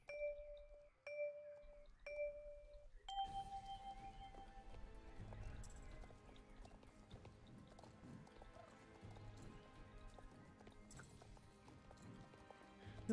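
Horse hooves clip-clopping steadily while riding in the Star Stable Online video game, after a few soft chime tones at the start; the even hoofbeats continue throughout under a faint game background.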